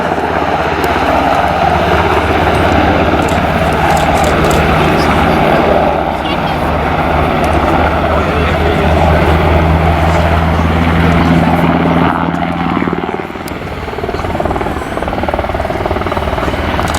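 A military helicopter flies in low for an assault landing at a bombing range open house, its loud, steady rotor and engine roar filling the scene as a voice talks over it.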